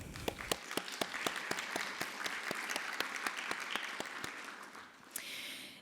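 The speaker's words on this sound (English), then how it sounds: "let's go ahead and give our students a round of applause today" A crowd at a middle school science fair gives the students a round of applause, steady dense clapping with a few sharp nearby claps standing out, the sound easing off near the end.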